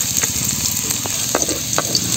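Garlic dropped into hot oil for a pork fat humba, crackling in a bright, close sizzle with a few sharp pops and spatter over a steady frying hiss.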